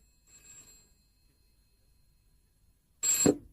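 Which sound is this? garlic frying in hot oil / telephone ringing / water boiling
telephone ringing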